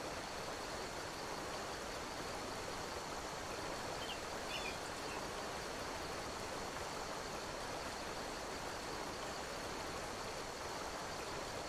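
Flowing stream water in the Skyrim video game, a continuous broadband rush that holds steady and fairly loud throughout, with a faint bird chirp briefly audible in the middle.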